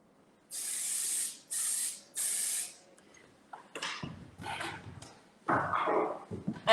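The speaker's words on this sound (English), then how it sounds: "you're going to finish using your finishing spray, flip turn, or the Joy Mist Firm." Joy Mist Firm finishing hair spray spritzes in three even, close bursts, followed by softer irregular hisses and rustling handling sounds.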